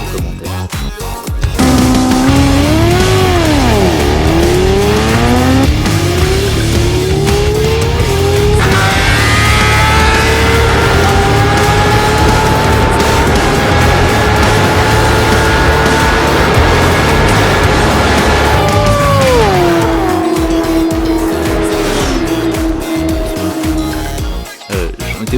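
A Kawasaki ZX-10R superbike engine screams loudly and continuously at racing speed, its pitch climbing through gear changes and dropping as it shifts, with faint crowd or commentary in the background.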